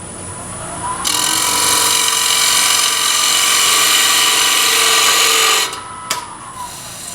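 Bowl gouge cutting a wooden bowl spinning on a lathe, a loud, steady high whirring scrape that starts abruptly, holds for several seconds, then stops with a brief knock afterward.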